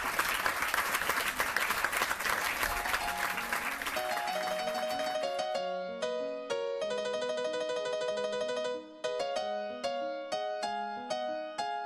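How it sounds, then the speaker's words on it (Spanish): Studio audience applause for a singer on a Spanish television show, a brief dense patter of clapping that gives way after a few seconds to piano music. "Un aplauso para ella."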